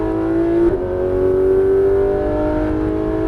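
Porsche 991 GT3 RS accelerating hard on the Alès race circuit, a loud, close, sustained engine note that climbs steadily in pitch, with a brief blip early on as the revs rise.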